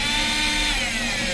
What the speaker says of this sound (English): Put those two Phillips head screws back in.